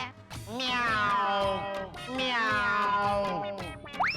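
A voice imitates a cat, making two long, wavering meows up close, each rising and then sliding down in pitch, with a short squeak right at the end.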